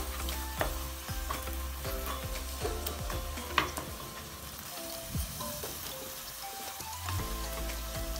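Ginger-garlic paste and ground green chili fry in a clay pot for a tuna biryani. A continuous crackling sizzle runs under repeated spatula scrapes and taps, close up, with no speech.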